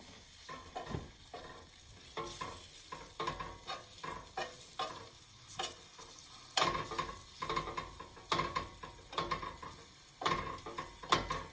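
Floured meat sizzles and browns in a frying pan, a steady, close crackling hiss broken by repeated scraping and stirring strokes of a utensil against the pan.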